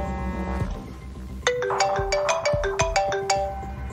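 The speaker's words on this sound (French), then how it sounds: "À 7 km de là, à Bray-et-Lu, le téléphone retentit chez Graziella et Christian." A telephone rings at night in a home in Bray-et-Lu, a bright electronic ringtone of quick repeated chiming notes starting after a brief low tone, clear and near with no voices.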